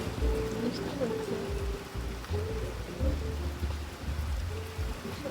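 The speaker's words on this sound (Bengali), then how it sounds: "যেহেতু ভীষণ বৃষ্টি হচ্ছে," Heavy rain falls steadily in a continuous dense patter, with a low rumbling hum beneath it and no clear voices.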